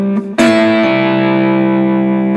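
A short slide guitar lick played with a Black Mountain slide ring and hybrid picking: a plucked note slides into a bright, sustained ringing chord that holds for about two seconds before stopping, close and alone.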